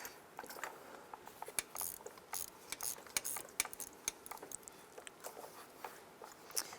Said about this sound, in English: Once you break that spark plug free, you can go ahead and spin the component here and get that plug out.